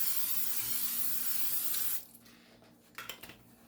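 A cooking spray can hisses onto silicone muffin molds in one continuous two-second burst, followed by quieter handling clicks and a couple of short sprays.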